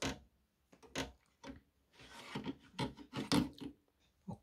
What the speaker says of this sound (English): then you slide out the hard drive